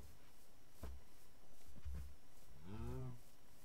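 A cow in the Minecraft video game gives a single low, drawn-out moo near the end, after a few dull thumps in otherwise quiet surroundings.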